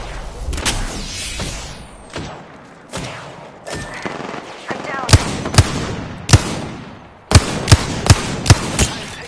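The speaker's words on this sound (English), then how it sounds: "Getting shot at." Gunfire in a battle royale video game: several loud, sharp shots crack out in an irregular burst pattern over a dense background of game noise, with clustered rapid shots near the end.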